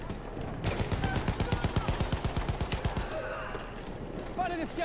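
Rapid automatic gunfire from the Automatico in Battlefield 1 multiplayer, a steady burst of about twenty closely spaced shots lasting a couple of seconds, loud and close, with game sounds continuing after it.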